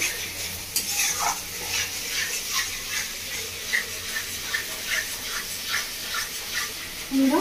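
Ginger, garlic and green chili paste sautéed with onions for a Bengali bhetki fish kalia gives a steady close sizzle, with repeated spatula strokes scraping the pan in a regular rhythm.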